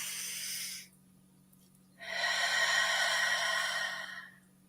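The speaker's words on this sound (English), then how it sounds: "deep breath in" Two deep inhalations drawn in during a guided evening prayer: a short breath at the start, a pause of silence, then a longer, louder breath in, close and alone with no talking.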